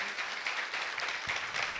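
Congregation clapping at a church sermon, a steady wash of many hands held at moderate level throughout, with no speech over it.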